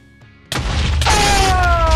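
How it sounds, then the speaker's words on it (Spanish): A loud, sudden explosion in the Minecraft video game bursts out after a quiet moment, then a dense roar and rumble sustains close up to the end, with faint tonal game sounds ringing over it. "Ahí vemos cómo explotamos."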